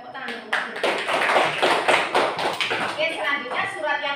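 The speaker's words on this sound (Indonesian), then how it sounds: "Tepuk tangan untuk Mbak Devi." Children in a classroom clap together in a quick burst of uneven hand claps, with a voice speaking over it near the start and end.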